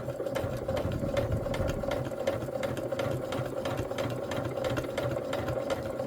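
A sewing machine quilting fabric runs in a steady, fast, even stitching rhythm at close range, constant and alone for several seconds.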